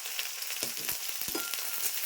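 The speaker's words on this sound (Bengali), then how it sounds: "এবার আমি পেঁয়াজটা ছাড়বো, তারপরে কাঁচা লঙ্কাটা দিয়ে দিলাম।" Onion and green chilli frying in hot oil with nigella seeds crackle in a bright, dense sizzle, close and steady, with short scraping taps of stirring mixed in.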